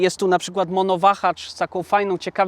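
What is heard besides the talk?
None of the usual background noises is heard.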